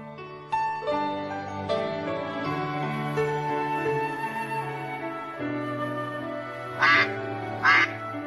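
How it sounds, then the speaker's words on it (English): Ducks quack twice, short nasal calls near the end, over a steady backdrop of layered synthesized music tones that plays throughout. "Hey, I can see some ducks."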